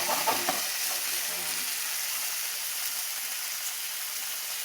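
Steak with browned onions and fennel sizzling in a cast iron skillet, a steady broadband hiss with a few stirring scrapes and low clunks near the start, close and continuous.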